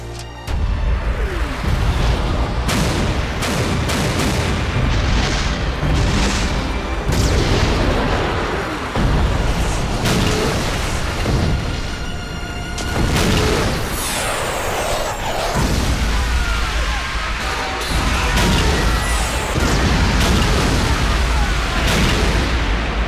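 Airstrike explosions in the Ghost in the Shell anime: heavy booms and rumbling blasts rolling one after another, loud and dense, with faint voices briefly underneath.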